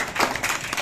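Classroom students clapping together for a classmate, a short burst of brisk, overlapping hand claps at moderate volume lasting under a second.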